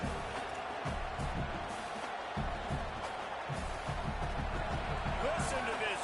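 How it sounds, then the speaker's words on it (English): A packed football stadium crowd roars for the home defense, a dense, continuous wall of noise with rhythmic thumps and swells, heard at a distance throughout. "Listen to this crowd just shaking the girders of this place, trying to help their defense."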